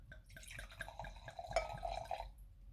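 Red wine, an inexpensive Bordeaux claret, pours into an unsuitable glass, giving a close, bubbling liquid trickle with drips that builds in the middle and stops after about two and a half seconds.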